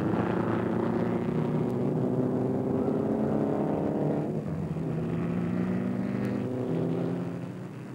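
Vintage racing cars at the Montlhéry historic Grand Prix in Paris roar past with a sustained, loud engine drone that shifts pitch midway as one car follows another, continuous without speech.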